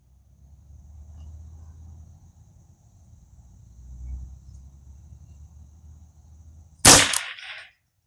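A custom Ruger 10/22 rifle fires one sharp, loud crack outdoors after a stretch of quiet low rumble and faint insect hum, and a short ringing tail follows.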